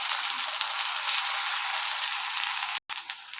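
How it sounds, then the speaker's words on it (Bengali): Ginger, green chili and garlic paste frying down in a pan for ghugni: a loud, continuous, hissing sizzle that holds steady, broken only by a brief dropout near the end. "এটা ভালো মতো কষিয়ে নেব যতক্ষণ না আদা আর"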